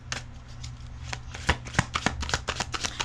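Tarot cards are shuffled in quick riffling bursts, with crisp card flicks and slaps repeating in an uneven rhythm, close and clear with no talking.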